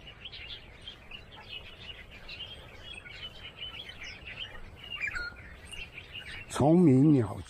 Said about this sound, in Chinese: 虫鸣鸟叫